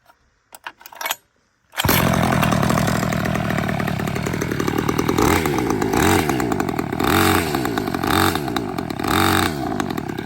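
A gas-converted Razor MX350 engine sputters briefly, then catches on a cold start and runs steadily with a loud, buzzy two-stroke drone and slight rev wavering, close by.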